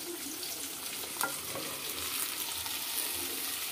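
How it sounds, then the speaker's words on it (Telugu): Okra pieces fry in a pan for a tamarind-based pulusu, producing a soft, continuous sizzle at moderate distance with a light scrape of stirring partway through. "బెండకాయ ముక్కలు కూడా వేసేసుకుందామండి"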